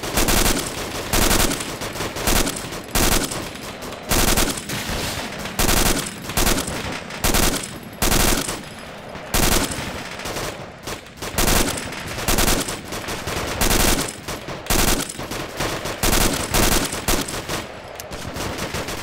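Sustained automatic gunfire in the military shooter game Arma 2, dense bursts of machine-gun and rifle fire that rattle on almost continuously, loud and close, with brief gaps between volleys and no speech.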